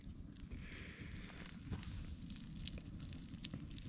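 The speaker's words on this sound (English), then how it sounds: "Just having a nice campfire." Campfire at a riverside campsite on the French River, faint scattered crackles and pops over soft wind and rustling, fairly quiet and close.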